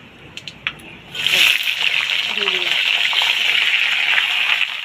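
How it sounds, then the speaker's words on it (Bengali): Vegetables tipped into a hot pan of oil with burnt panch phoron for a Bengali pui shak ghyat, bursting into a loud, steady sizzle that holds after a few brief clinks, with a voice faintly under it. "আমি সব সবজিগুলো ঢেলে দেবো"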